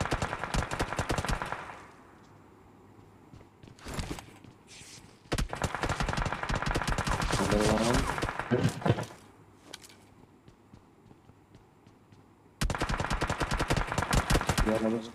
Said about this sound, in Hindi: अबे कहाँ कहाँ से फायरिंग हो रही है?